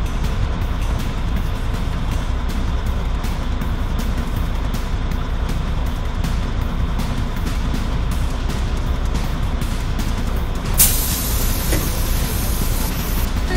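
A bus in an off-road bus simulator video game drones with a steady engine hum throughout, joined by a brief brighter hiss near the end.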